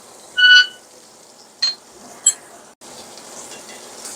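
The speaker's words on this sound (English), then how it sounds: "While it's cooking, baste the steak a few times with the juices to keep that surface moist." A boneless ribeye steak in a pan, basted with its juices, gives a faint low sizzle broken by a few brief louder spatters and scrapes.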